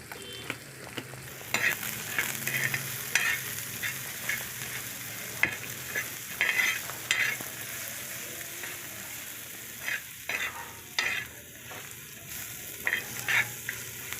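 Chopped onions frying in a pan as ground coriander, turmeric, garam masala and salt are stirred in, with a steady sizzle broken by repeated spoon scrapes and clinks, close and alone with no talk.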